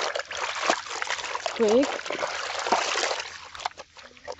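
White jeans being hand washed in cold water, with light splashing and trickling under and between a person's close talking, brief sloshing bursts scattered through the stretch.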